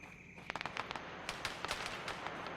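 Scattered sharp cracks of gunfire from a military video game, a string of irregular reports of varying loudness, some close and some more distant, with no talk.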